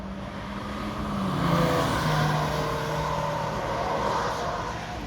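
A Porsche with a flat-six engine drives past while drifting, a broad, steady engine roar and tyre noise swelling mid-clip and fading slightly, at moderate distance.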